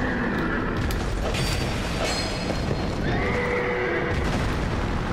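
A horse in the video game Dark Souls 2 neighs loudly over a busy game soundscape, with clip-clopping hooves and low rumbles running throughout.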